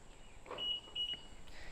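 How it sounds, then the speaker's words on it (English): A Toyota FJ Cruiser gives two short electronic chirps as it unlocks, the paired beeps fairly faint against quiet outdoor background. "Gives you a funky little beep beep."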